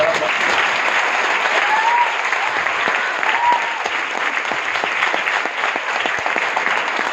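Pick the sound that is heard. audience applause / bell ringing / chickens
audience applause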